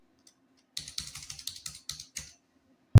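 A computer keyboard is typed on in a quick run of close, crisp clicks while GST purchase invoice details are entered, followed after a short pause by one sharper, louder keystroke.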